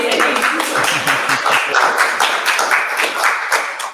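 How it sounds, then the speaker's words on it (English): A small group claps steadily for several seconds, close and fairly loud, with no talking over it. "Okay, I think we should clap."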